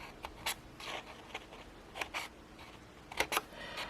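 Scissors cutting slits into punched journal paper for a repositionable spiral-bound journal, a series of short crisp snips and paper rustles in an uneven rhythm, close up and quiet.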